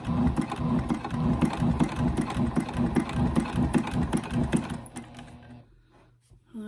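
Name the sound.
Juki TL-18QVP Haruka sewing machine stitching a journal binding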